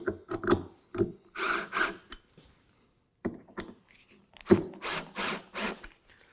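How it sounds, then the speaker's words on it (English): A power drill driving screws on a sliding router table whirs in several short bursts, with clicks and knocks between runs, close up and fairly loud. "I'll just drive these screws down a little bit with my drill"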